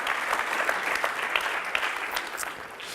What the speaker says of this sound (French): Venez tous les deux, sous vos applaudissements,